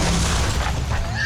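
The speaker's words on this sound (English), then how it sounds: "As you can see, the concussion of the charge forces the water outward." A detonated explosive charge blasting water outward, a single loud broad boom with a rumbling, splashing wash that fills the whole short moment at close range.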